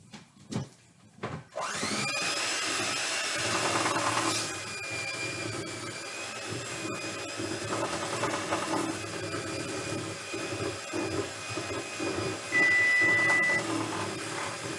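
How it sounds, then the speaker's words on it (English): A continuous electric mixer whirs steadily through a batter mixture after a brief quiet start, holding a constant buzzing drone at close range, with a short high tone near the end. "we're going to continue to beat that mixture"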